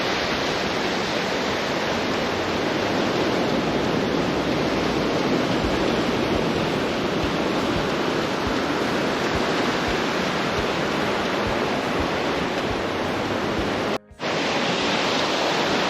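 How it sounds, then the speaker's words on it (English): Ocean waves crash and wash onto the shore in a dense, continuous roar of surf that stays loud and steady, with a brief dropout near the end. "Get a beautiful sound of the waves crashing."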